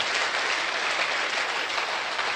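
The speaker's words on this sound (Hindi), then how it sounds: "इसके लिए जोरदार तालियां दोस्तों" Audience applause at an associate training session, a steady dense wash of clapping filling the whole stretch with no pauses or voices over it.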